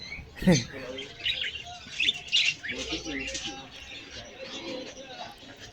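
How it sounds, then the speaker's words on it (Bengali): Pigeons and other caged birds calling inside a wholesale bird shop in Amman, Jordan, with scattered chirps and squawks, one brief sharp call near the start, over steady background chatter and voices. "এখানে কবুতরও আছে কবুতর কচ্ছপ অনেকগুলা পাখি আছে এখানে"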